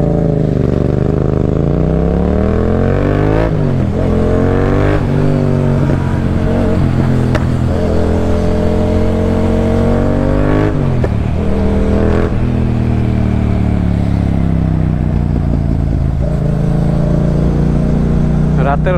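A motorcycle exhaust roars loud and close during a night ride, the engine note rising and falling through gear changes with repeated revving swells, continuous and dominant throughout.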